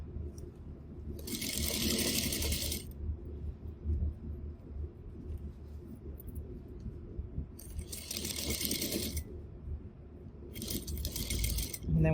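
A sewing machine stitches an interfaced collar onto a shirt in three separate bursts of rapid stitching, with quiet pauses between them.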